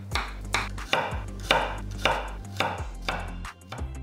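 A knife slices two whole garlic cloves 0.2 cm thick on a cutting board, giving seven or eight crisp, evenly spaced chops with a low hum underneath.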